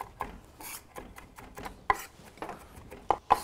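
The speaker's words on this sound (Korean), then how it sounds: "마늘 곱게 살짝 다져주시고요" A knife finely mincing garlic on a cutting board in a home kitchen, heard as irregular light chops and scraping taps, with a few sharper knocks near the end.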